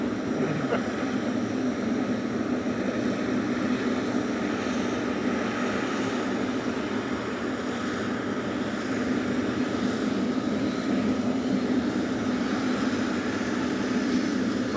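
Aircraft engines at Manchester Airport: a steady, loud, broadband jet roar with a constant hum, unbroken for the whole stretch, with no voices.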